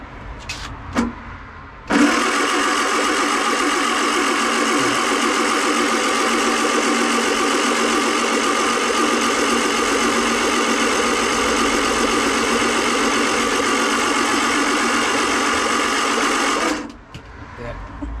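A rebuilt Classic Mini A+ Series engine catches on its first start and runs for about fifteen seconds at a fast, even idle with a busy mechanical clatter, then cuts off abruptly.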